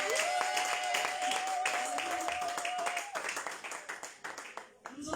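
A church congregation claps and applauds together in a steady, continuous patter of many hands, with a sung or sustained voice tone over the first half before the clapping thins out.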